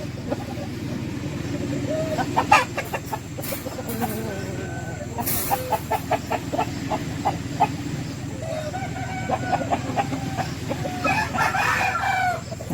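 Patti breed roosters crow repeatedly in a farm garden among other fowl, with clucking and scattered bird calls over a steady outdoor background, plus a faint voice at moments.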